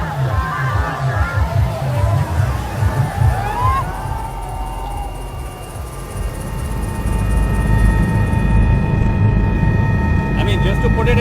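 A frenzied crowd presses against barricades at an election rally in Bihar, a loud continuous roar with shouting, whistles and engine-like drones, while a voice talks over it.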